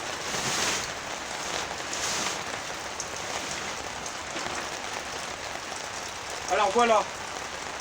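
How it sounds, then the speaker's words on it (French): Rain patters steadily on a greenhouse tarp in a soft, continuous hiss with a few louder splashes, and someone briefly speaks near the end. "là, on a une belle pluie quand même"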